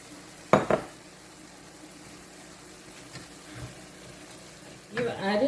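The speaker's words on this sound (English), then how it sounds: "To that, we are going to add now chopped celery." Chopped celery is tipped into a pan of cooking stuffed-pepper filling and stirred, with a couple of sharp clatters and scrapes, a soft background sizzle, and a burst of stirring near the end.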